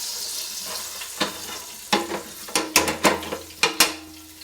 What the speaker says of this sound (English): So at about the midway point, I like to flip it over and get an even sear on both sides